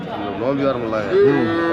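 Cattle moo at the Anthiyur cattle market, crowded with animals brought in around Pongal, giving a few close, drawn-out lowing calls that swell and fade over a short stretch, with no voices over them.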